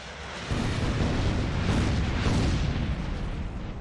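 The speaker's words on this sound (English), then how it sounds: "Oh, we get to see the airstrike." Airstrike explosion in the video game XCOM: Enemy Within: a sudden, loud rumbling blast starts after a brief pause and keeps roaring as a dense, sustained burst.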